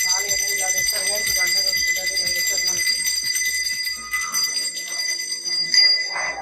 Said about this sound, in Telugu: ఇదేందులో గంట కొట్టుకుంటూ వేస్తున్నారు అనుకుంటున్నారు